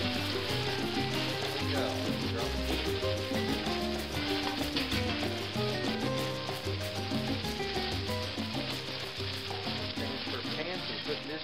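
A rolled pork porchetta sears in high-heat peanut oil, giving a steady, continuous sizzle that runs the whole time beneath prominent background music.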